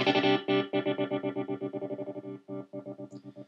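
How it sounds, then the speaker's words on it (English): Electric guitar through a Line 6 M13 pattern tremolo effect, sustained chords chopped into fast, even rhythmic pulses with a brief gap before the pattern resumes, loud and close with no talking. "Here's this pattern tremolo, and I haven't even touched what the pattern tremolo can do, but I'm just going to call it up here"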